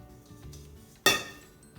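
A bowl is set down on a kitchen counter with a single sharp, bright clink against a quiet room.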